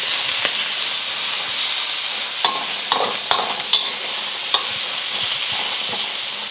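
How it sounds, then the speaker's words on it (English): The white part of an onion stir-fries in a hot pan or wok, giving a loud, steady hiss and sizzle broken by a few sharp clacks and scrapes from the spatula. "Adding my onion, the white part. stir fry that for 11 minutes."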